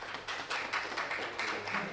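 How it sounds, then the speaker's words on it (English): An audience at a talk on accessibility and human-centred design claps in a steady, even rhythm. The moderately loud applause continues without a break. "Round of applause."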